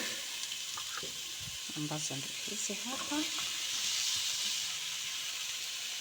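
Bell peppers and onions, white and purple, sizzle and fry in a pan with a steady close hiss, while a person speaks briefly over the cooking.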